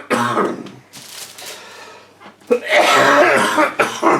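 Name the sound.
coughing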